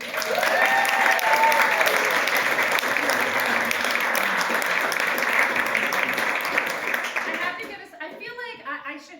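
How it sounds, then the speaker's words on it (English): An audience at a campaign event for re-electing a candidate gives a round of applause, dense clapping that is loud and steady before it thins and fades near the end as a voice begins to speak. "Let's give her a round of applause"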